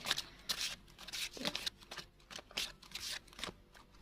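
Tarot cards being handled and laid out on a table: a quiet series of short papery snaps and slides in irregular bursts, close and soft, with no talking.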